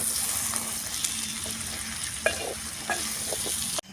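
Curry frying in a pan with coriander powder and chilli powder, stirred steadily with a spoon against the metal; continuous close sizzle with a few scraping knocks, no voices.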